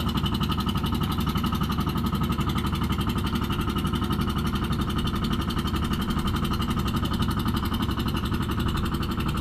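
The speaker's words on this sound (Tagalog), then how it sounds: "Malaki siguro, 4BR siguro makina nito." A 4BR diesel engine runs on a small fishing boat with an exhaust pipe, giving a loud, steady, rapid mechanical knocking throbbing without pause, close by and with no talk over it.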